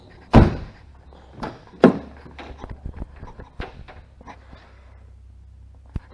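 Door of a 1995 Nissan Skyline GTS4 opened and shut, with a loud sharp thunk near the start, a second solid knock after about a second and a half, then softer clicks and handling sounds close by.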